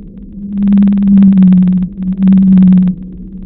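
A blue whale call: two long, loud, low tones, each overlaid with rapid buzzing pulses, separated by a short gap.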